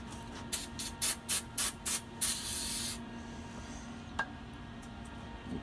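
Carb cleaner is sprayed onto a GX390 engine head in about seven short hissing bursts, then one longer blast, loud and close, followed by a quieter stretch with faint handling noises.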